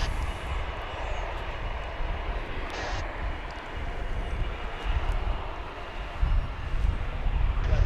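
A Delta Airbus A220 jet arriving at Dallas-Fort Worth from Salt Lake City produces a moderate, steady engine roar with a brief brighter whine midway, no talk over it.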